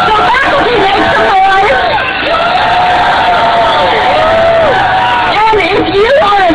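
A rally crowd cheering and whooping loudly and continuously, with dense babble, shouts and rising calls all around, close and unbroken from start to end.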